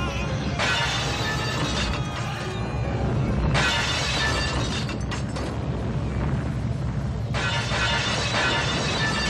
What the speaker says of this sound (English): It's like the same glass. They ran out of sound effects.